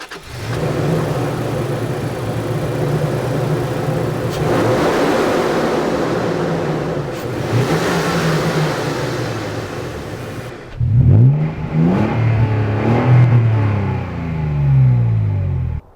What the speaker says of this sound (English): It's a powerful engine, and yeah, let's see what it sounds like.